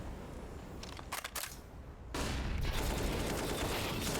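Rapid spray of rifle fire in Counter-Strike on the Overpass map, bursts of sharp shots rising to a dense continuous volley at moderate distance, no voices.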